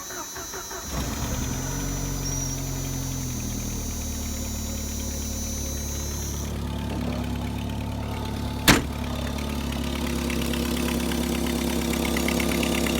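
A manual five-speed Jeep with no block heater starts in a -30 blizzard and settles into a steady, close engine idle, with one sharp click partway through.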